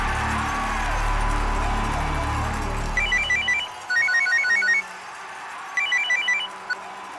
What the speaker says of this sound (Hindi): डिकिंसन को फोन लगा।